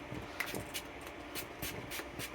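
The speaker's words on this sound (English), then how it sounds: "Spray it in my hands" Quiet, repeated short hissing spritzes of spray hair gel from a nozzle into hands, several bursts in a loose rhythm, close by.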